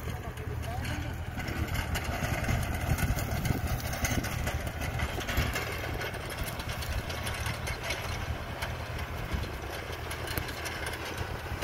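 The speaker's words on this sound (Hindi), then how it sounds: "आज फर्स्ट टाइम रोटावेटर और ट्रैक्टर की टेस्ट ड्राइव ले रहे हैं।" An Arjun Novo AC tractor engine runs with a rotavator attached during a first field test, a steady low diesel rumble heard at moderate distance with faint wind and background noise throughout.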